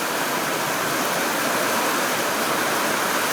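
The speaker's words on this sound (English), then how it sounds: "there's definitely water gushing just underneath that tree, underneath the fence. It's like all this water rushing" Storm water gushes beneath a tree and along a fence, a constant loud broadband rush like a small waterfall, steady and close with no voices.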